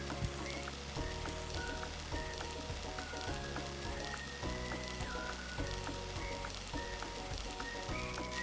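Soaked moong dal hits hot oil, giving a steady close sizzle with fine crackling throughout, while soft music-like tones play underneath and no one speaks.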